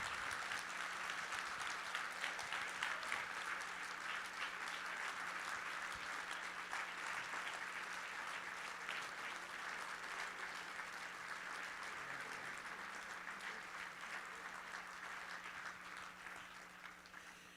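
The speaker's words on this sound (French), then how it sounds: "je vais aussi applaudir la maman d'Enzo" A conference audience breaks into sustained, even applause that fills the hall for over fifteen seconds, steady and loud at first and then slowly tapering off, with faint crowd murmur beneath.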